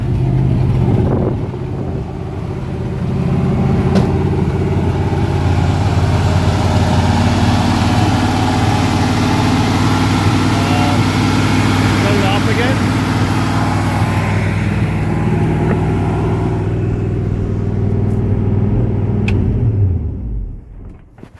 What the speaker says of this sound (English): Fired up pretty good, which it should have, because again, this was a running, operating motor and transmission out of that Lincoln